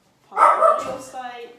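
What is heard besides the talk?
dog barking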